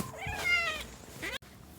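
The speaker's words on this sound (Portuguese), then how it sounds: "Ó, ela ficou miau. Por isso que pausou." A cat meows loudly and close up in one drawn-out, rising and falling call, followed by a shorter second meow and then an abrupt cut.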